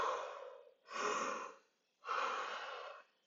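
A person imitates pursed-lip breathing: three long, breathy airflows alternate between drawing in and blowing out through pursed lips, close and clear with short pauses between.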